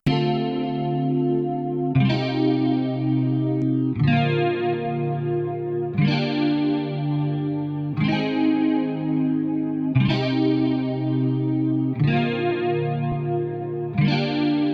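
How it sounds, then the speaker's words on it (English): Lush, wide chords wash in with a swirling stereo chorus sweep from an Arturia Dimension D-style chorus with reverse sweep, each swell restarting about every two seconds in a steady repeating cycle. "for super stereo effects, you have the reverse sweep button."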